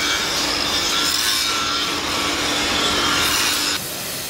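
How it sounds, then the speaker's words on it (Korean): Grinding the surfaces of cast iron manhole covers smooth in an iron foundry: a steady, loud abrasive rasp that runs continuously and drops slightly in level near the end. "이어서 표면을 매끄럽게 갈아주는 사상 작업이 진행된다."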